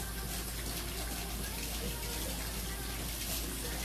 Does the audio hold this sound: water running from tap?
yes